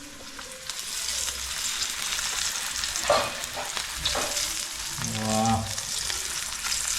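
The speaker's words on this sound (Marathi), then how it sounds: "चला मंडळी आता मच्छी फ्राय करते अक्षता" Pomfret fish sizzles and spits in hot oil on a pan, a constant crackling hiss with occasional clinks of utensils, and a brief voice cuts in once near the middle.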